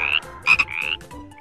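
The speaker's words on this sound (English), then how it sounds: "F for frog" A cartoon frog croaks in a few loud, raspy pulses that come in quick succession, close and clear with no talking.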